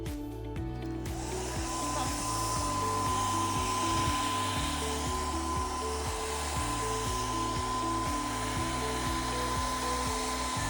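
A hair dryer blows steadily at close range over a wet decoupaged plate, a constant whooshing whine with a sustained motor tone and faint rhythmic fluttering underneath.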